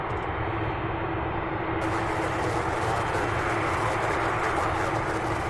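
Boeing 747 cargo jet on the move at UPS Worldport in Louisville, a steady loud roaring jet engine rumble that continues without break throughout.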